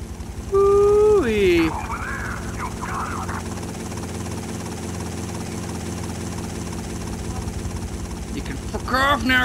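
A helicopter in the video game GTA Vice City gives a steady rotor and engine drone under the whole stretch, while a voice talks loudly over it at the start and end.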